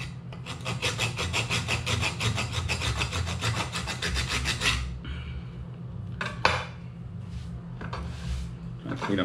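Hard ostrich eggshell is scraped open with steady, rapid rasping strokes, close and continuous for several seconds, then a pause broken by a few isolated scrapes and a sharp tap.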